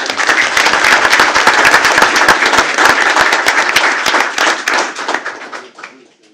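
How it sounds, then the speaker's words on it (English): A school board meeting audience claps loudly for a student, a dense burst of many hands close by that fades out near the end. "Let's give him a big round of applause for Mason."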